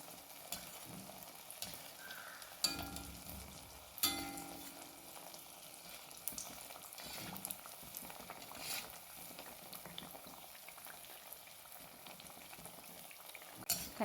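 Neyyappam batter fries gently in hot oil over a low flame, a soft, steady bubbling sizzle with occasional small pops, faint and close, no voices.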